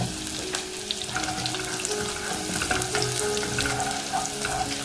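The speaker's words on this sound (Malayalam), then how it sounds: "എണ്ണയ്ക്കകത്തോട്ട് ഇഞ്ചി, പച്ചമുളകും വെളുത്തുള്ളി ഇട്ട് നന്നായിട്ടൊന്ന് മൂപ്പിച്ചെടുക്കാം" Ginger, green chilli and garlic fry in hot oil with a loud, steady, close sizzle and crackle that continues throughout, occasionally stirred.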